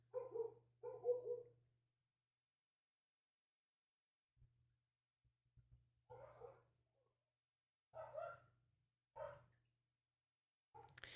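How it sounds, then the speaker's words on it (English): Pet dogs bark faintly in the background of a quiet indoor room, with scattered short barks in small clusters separated by long pauses and no talking. "I'm not sure if you can hear my dogs barking in the background."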